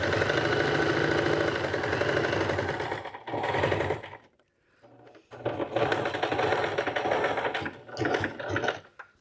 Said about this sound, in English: Quick, sew it. Get it sewn.